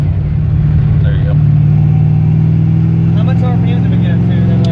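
A car engine on a Microsquirt ECU during street tuning holds a steady loud drone throughout, climbing slightly as it revs in gear, with voices talking over it.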